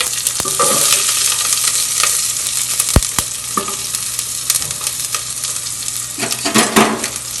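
Green chillies and small shallots sauté loudly in hot oil for banana stem kootu, a dense continuous crackle and hiss with occasional utensil taps and stirring scrapes close by.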